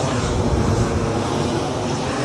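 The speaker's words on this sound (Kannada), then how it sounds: "ನೋಡಿ ಹೋಯ್ತು ಫ್ಲೈಟ್" A loud, steady roar of an airplane engine overhead near Devanahalli, by Bengaluru's airport, fills the whole moment without letting up.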